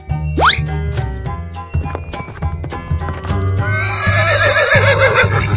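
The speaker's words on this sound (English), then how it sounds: "Horse." A cartoon horse whinnies loudly near the start of a children's animal scene, its neigh rising over bouncy background music with clip-clop hoofbeats and bright jingly effects following.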